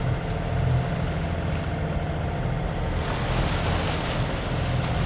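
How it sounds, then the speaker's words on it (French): Heavy sea surf rumbles and washes continuously on a boat crossing toward the Balearic Islands near Ibiza, mixed with wind noise and the low drone of the boat, loud and close. "Il y a encore des grosses vagues"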